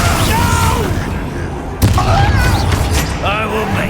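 A Confringo blasting spell from the video game Hogwarts Legacy bursts with a sharp boom midway, amid a busy mix of combat effects and a character's voice talking before and after.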